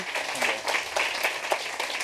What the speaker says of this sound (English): A big round of applause for Jakob Kudsk Steensen.